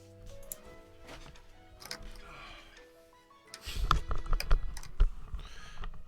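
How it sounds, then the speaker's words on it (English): Computer keyboard keys, including number keys, tapped in quick irregular clusters, with clicks growing louder and denser toward the end, heard close up. "I was hitting numbers on my keyboard"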